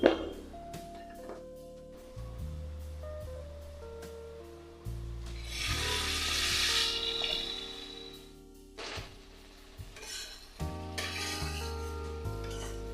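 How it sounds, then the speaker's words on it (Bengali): Turmeric, Kashmiri chilli powder and a little sugar sizzle and get stirred in a hot pan for an elephant foot yam and prawn curry, with a steady frying hiss, scraping strokes and occasional clinks, no voices. "মশলাটা আমি কষাবো এখন।"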